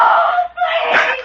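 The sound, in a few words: woman screaming in the night, radio drama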